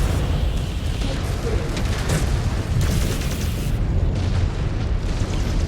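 Missile explosions in the MechWarrior Clans game crash out as a dense, continuous roar of booming blasts, loud and sustained with little letup.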